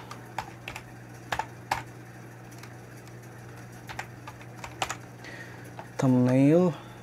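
Computer keyboard typing in scattered bursts of clicks, fairly close and moderate in level over a low steady hum, with a louder tonal sound briefly at the end.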